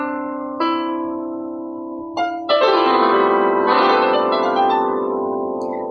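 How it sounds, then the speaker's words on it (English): Notes played on the Virtual Piano online keyboard, several sustained synthetic piano tones that ring into one another, a single held note first, then fuller chords entering with long, overlapping decays. "Now, at the moment, the piano sounds like this."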